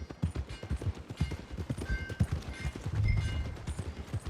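Horse hooves clip-clop at a steady trot in Red Dead Redemption 2, close and fairly loud, with a low rumble swelling briefly near the end.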